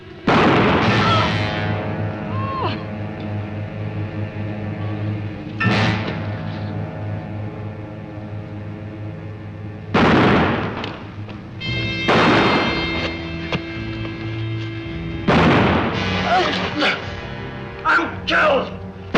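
Revolver shots and loud booms ring out in a western film gunfight, several heavy blasts spaced irregularly and echoing under a dense music and effects track.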